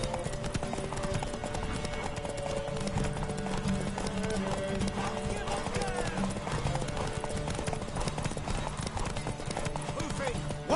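Steady horse hoofbeats clip-clop at a trotting rhythm in a video game under game music and occasional voices, close and continuous.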